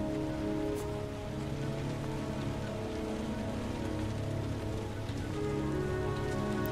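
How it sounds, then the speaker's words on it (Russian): Steady rain falling in the video game Heavy Rain, a dense continuous patter of drops on surfaces with no voices, even and moderately loud throughout. "Ну, дождь идет, да."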